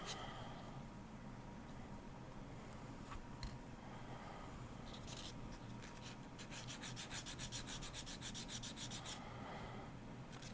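Ultra fine abrasive rubbing and sanding a hard, unfired silver clay earring, a soft continuous scratchy rasp with faster strokes toward the end, close but quiet and alone.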